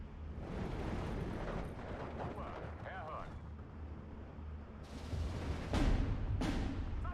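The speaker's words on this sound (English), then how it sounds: "Looks like they are counter-battering our mortar," Enemy counter-battery artillery shells land on a mortar position in the Steel Division 2 war game, heard as distant rumbling blasts that end in several louder, sharper impacts, under steady battle noise.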